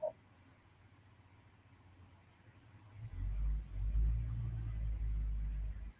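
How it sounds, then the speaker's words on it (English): A very loud truck rumbles and revs as it pulls away, its deep engine noise swelling suddenly after a few quiet seconds and staying heavy and steady to the end. "That truck is just crazy loud right now. He's leaving, thank goodness."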